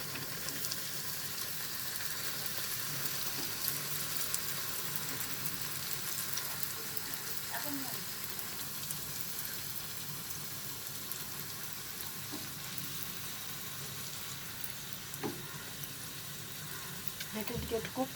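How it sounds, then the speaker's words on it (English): Stuffed coconut kachori dropped into hot oil, frying with a steady, close sizzle and occasional bubbling pops, softly continuous throughout with faint background noise. "I will just drop this kachori into the oil."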